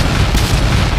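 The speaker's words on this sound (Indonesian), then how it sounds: "Terjadi ledakan di mana-mana." An explosion sound effect in a manhwa recap of a demonic cult attack, a loud, dense booming rumble that fills the whole moment without letup.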